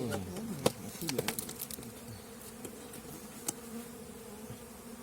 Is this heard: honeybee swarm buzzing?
yes